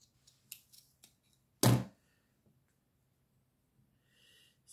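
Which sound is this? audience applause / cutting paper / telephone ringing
cutting paper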